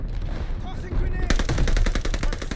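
Automatic weapon fire in the video game Call of Duty Vanguard: a few scattered shots, then a rapid, evenly spaced burst of loud, close gunfire lasting over a second.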